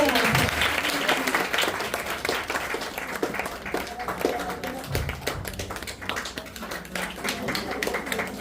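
Applause from an audience greeting dignitaries as they are honoured one by one at a charitable trust function, a dense wash of clapping running steadily throughout at moderate loudness.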